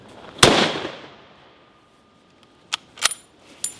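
A suppressed firearm from Southern Precision Tooling fired once, a sharp loud crack with a short decaying tail, followed after a pause by several quieter sharp clicks and taps of handling.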